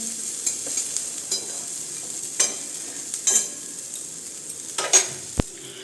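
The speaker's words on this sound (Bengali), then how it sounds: "এটা শুধু মেয়ের জন্য একদম অল্প তেল দিয়ে ভাজা করছি" Food fries in a pan with only a very little oil, giving a soft, steady sizzle broken by a few light clicks and scrapes of stirring; no one speaks.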